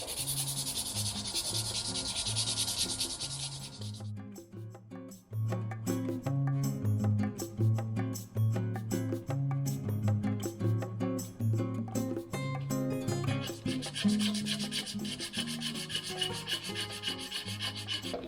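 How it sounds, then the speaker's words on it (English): Rapid, raspy back-and-forth sanding strokes scrub paint and clear coat off a model body steadily at close range, with rhythmic rubbing that changes tone partway through. "we're going to sand off the paint that's already on here"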